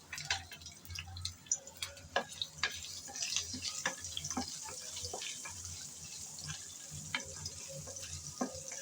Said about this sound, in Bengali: এখন গরম তেলে দিয়ে দিলাম চিংড়িগুলো